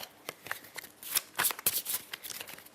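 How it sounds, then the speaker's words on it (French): Several decks of Pandemic Legacy board game cards being shuffled up close, a quick run of crisp riffling and flicking bursts with brief pauses between riffs, no talking. "je vais mélanger les 4 paquets que je vais mettre sur les cartes des joueurs"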